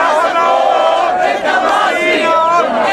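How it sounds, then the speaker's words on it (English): A dense crowd in a Cairo square during the revolution roars, sings and chants slogans, a loud, continuous wall of many voices with no pauses. "It's a roar of sound because everyone's so excited and they're singing songs of the revolution"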